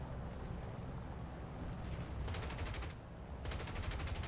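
Bomber guns firing in the War Thunder video game: two bursts of rapid, evenly spaced shots over a constant low engine drone, fairly faint.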